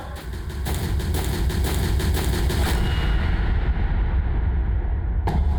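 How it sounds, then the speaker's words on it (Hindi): Gunshots inside a school: a rapid burst rattles out over a low engine rumble, then the firing stops and the rumble continues, with one last sharp crack near the end. "अभी अभी स्कूल के अंदर से गोली चलने की आवाज आई है।"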